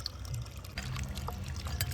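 Water pours and trickles faintly in the kitchen while jackfruit seeds are rinsed and the water changed, a soft continuous splashing with low background hum and no talking.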